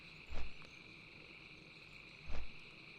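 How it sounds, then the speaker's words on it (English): Crickets chirp in a steady high trill across a swamp in Dustwallow Marsh, World of Warcraft, with two soft low thumps breaking the constant insect drone. "You can hear the crickets just chirping like crazy."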